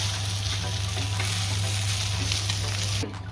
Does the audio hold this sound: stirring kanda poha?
yes